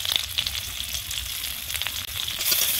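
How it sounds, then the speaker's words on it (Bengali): Onions sizzle and crackle steadily in hot oil in a pan during home Bengali cooking, a continuous close frying hiss with small pops, no talking. "এবার এর মধ্যে পেঁয়াজ দেবো"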